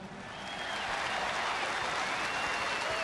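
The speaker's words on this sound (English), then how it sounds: "Let's give him a round of applause, everybody." A ballpark crowd at a Brewers–Cardinals baseball game applauds a broadcaster, the clapping rising from moderate to a full, steady roar within the first second and holding.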